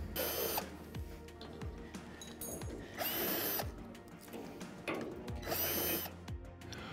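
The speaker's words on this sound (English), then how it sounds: "The next step is to quickly undo all of the remaining Allen bolts before we lift it up." A power tool undoes Allen bolts on pergola beams during assembly, giving several loud whirring bursts separated by quieter ratcheting clicks and knocks close by.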